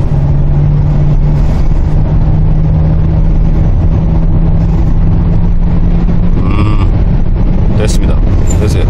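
A 2019 Kia Carnival's engine revs as the accelerator is pressed, a loud sustained drone that climbs and fades while people talk inside the vehicle.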